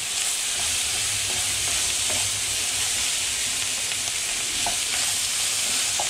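Meat sizzles and spits steadily in a hot frying pan while two spatulas press and break it apart, with faint scraping knocks scattered through the loud, continuous frying hiss.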